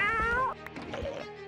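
A cat meows in the Minecraft mod pack Stone Block 3: one long, bright, wavering meow up close, followed by a lower, rougher second cry.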